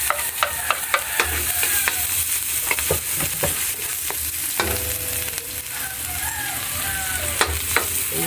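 Onion and garlic sautéing in a pan, with a steady loud sizzle and scattered clicks and scrapes of stirring, close up.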